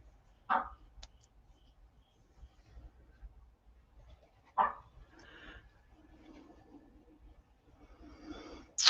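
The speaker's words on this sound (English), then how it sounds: "My one dog's going crazy trying to get in here." Indoor dog barking and whining while trying to get into a room, a few sharp separate barks spaced several seconds apart with softer whimpering between, heard at moderate distance.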